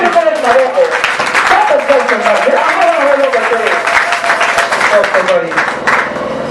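A church congregation applauds together during a sermon, steady dense clapping filling the room, with voices and talk mixed in throughout.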